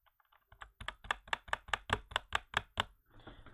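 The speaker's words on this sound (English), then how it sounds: "So you can hear me clicking the button, but it doesn't do anything" About ten crisp key clicks tap out in a quick, even rhythm, close and fairly quiet, with no voices.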